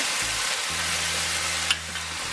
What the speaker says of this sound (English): Yeah, we're going to stir fry that around a little bit.